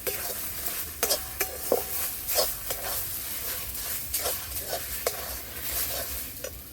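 Mashed red lentils being stirred over potatoes in a pan, giving a soft continuous sizzle broken by several sharp utensil scrapes and taps against the pan, close up and without talk.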